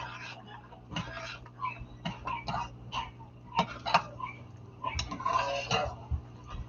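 Grits bubbling and popping in a pot on the stove, with scattered soft pops and ticks alongside faint clinks of a spoon against the pot, fairly close and quiet.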